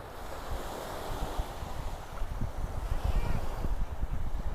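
Ocean surf rolls in on Miami Beach, a low rumbling wash of breaking waves mixed with wind buffeting the microphone, steady and fairly loud throughout.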